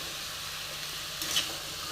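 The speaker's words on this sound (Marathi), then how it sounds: "फरसबी, ह्याला 2 मिनटं अगोदर भाजून घेते." Green beans roasting in oil in a pan, giving a steady, even sizzle with a brief louder crackle near the end.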